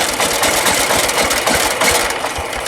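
A tractor engine idles steadily at close range, a continuous mid-to-low rumble with a faint knocking pulse, running alone without speech.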